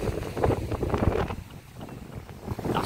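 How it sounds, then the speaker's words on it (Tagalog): Strong beach wind blasts across the microphone, a loud, gusting low roar that surges and dips continuously, with no voices over it. "Lakas ang hangin."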